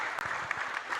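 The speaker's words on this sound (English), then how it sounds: "Please, can we give them a round of applause?" An audience at an urban planning conference claps after a panel session, producing dense, steady applause from a crowd that sounds moderately distant and fills the whole short moment.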